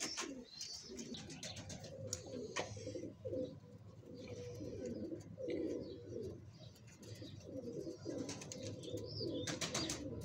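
A breeding pair of Teddy pigeons coos in a loft, a low repeated throaty cooing that rolls steadily throughout. Faint chirps and a few sharp clicks come through in the background, and no one speaks.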